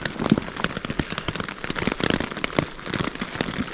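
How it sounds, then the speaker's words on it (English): Heavy rain falls beside a river bend, pattering densely with sharp crackling drop impacts on a nearby surface. It is continuous and close, with irregular louder hits and no talking. "Way more rain than what was forecast."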